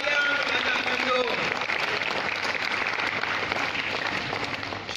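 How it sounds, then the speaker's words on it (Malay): An audience at a Malay-language alumni talk event gives a steady round of applause that is already going at the start and fades slightly toward the end, with a voice briefly heard over it. "Berikan satu tepukan, anak kandung sayang, anak kandung."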